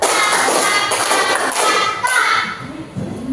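A class claps along in a counted rhythm, giving a run of dull, uneven clapping bursts that thin out and soften toward the end.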